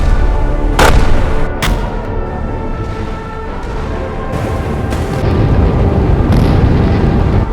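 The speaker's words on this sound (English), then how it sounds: "The destroyers USS Bagley and Wainwright fire 76mm and 5-inch shells at the Sirri platform." Naval gunfire in the video game Sea Power, destroyers USS Bagley and Wainwright firing 76mm and 5-inch shells at the Sirri oil platform, loud sharp booms over a heavy rumbling bed.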